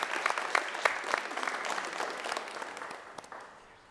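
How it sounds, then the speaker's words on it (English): Audience applause at a live performance event, a dense patter of clapping hands from a crowd, strong at first and gradually fading out over a few seconds. "Everybody, round of applause, y'all."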